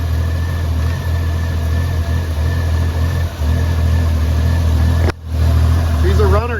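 AMC Eagle car engine running steadily at a fast idle with the choke held shut, a loud, even mechanical drone close by with a brief dip in the sound.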